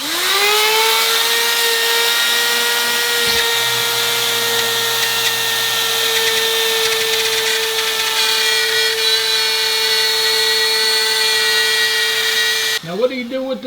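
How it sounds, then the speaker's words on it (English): A Rotozip spiral cutting tool bores and cuts a hole through a drywall ceiling for a Klipsch ceiling speaker, a steady loud high-pitched whine holding constant for about thirteen seconds before winding down abruptly at the end. "we're going to cut the hole out using a Rotozip"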